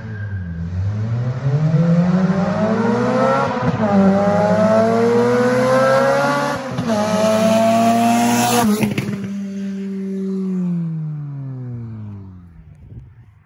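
An Acura RSX race car pulls away hard on a timed fence-to-fence run, its engine climbing through loud revs with a couple of sharp gear shifts before easing off and fading to a low idle.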